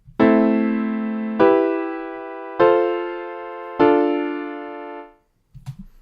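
A 1-5-6-4 chord progression played in a beat: four sustained synth chords struck one after another at an even pace, each ringing and fading, then silence and a faint tail.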